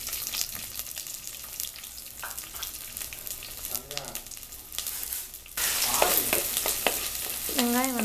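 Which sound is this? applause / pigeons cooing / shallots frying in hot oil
shallots frying in hot oil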